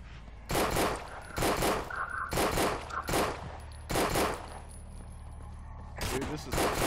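Sharp Glock pistol shots ring out in a video game match, fired in quick bursts of several rounds each, loud and close, with short gaps between the volleys.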